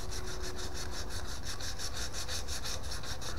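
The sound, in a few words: sanding a faceted bubinga pen on a lathe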